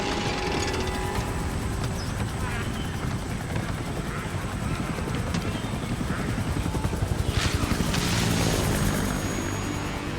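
A helicopter lifts off in the Resident Evil video game, its loud rotor and engine roar droning steadily and building slightly toward the end, with faint game effects mixed in.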